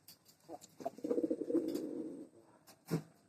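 Pigeons kept at home coo in a soft, throaty run that swells mid-clip, with a further brief coo near the end, close by and without speech.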